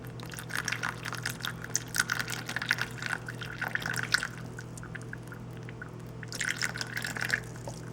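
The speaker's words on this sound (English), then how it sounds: "for this last one, I am going to pour in Clorox bleach" Regular Clorox bleach is poured into a bowl of baking soda paste, giving a steady, close trickling and splashing in two bursts, with a short pause between them.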